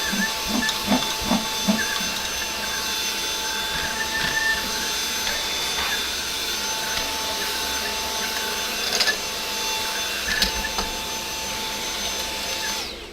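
A vacuum cleaner hums steadily up close while sucking up sawdust, with scattered clicks, rattles and scraping bumps as the nozzle knocks around.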